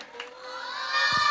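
Children at a church Vacation Bible School celebration shout a drawn-out "O" together. The loud, high-pitched crowd cry swells and holds for about a second, with a few brief thumps near the end.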